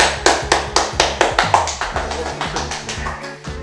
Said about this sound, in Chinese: 那我们现在就掌声欢迎 PK King 大神